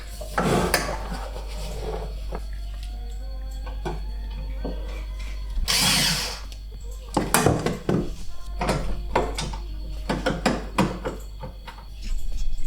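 Screws are taken out of the back of a Spice Caliente pizza oven, with close clicks, metallic taps and handling knocks over a steady low hum, plus a brief rush of noise partway through.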